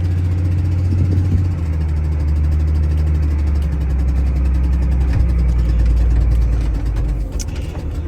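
A Volvo loader's diesel engine runs steadily at idle, a loud close low rumble that holds even throughout with no talking over it.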